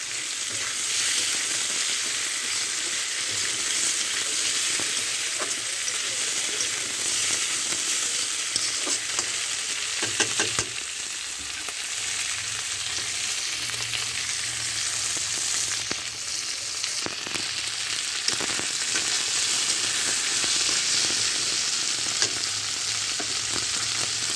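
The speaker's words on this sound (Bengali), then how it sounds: "দেখছেন শাক কমে একটু ফোটাই যাচ্ছে" Hencha greens simmer and reduce in a cooking pot for a Bengali shukto, a steady, close, hissing sizzle with faint bubbling that runs unbroken throughout, with no one speaking.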